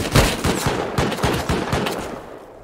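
Rapid automated turret gunfire in the Rust survival game, a steady burst of loud, closely spaced shots rattling on for nearly three seconds with no talk.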